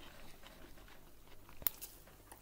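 A single crisp crunch of a bite into flaky shortcrust pastry on the edge of a microwaved chicken and bacon pie, close up, with soft crackling before and after against quiet background noise.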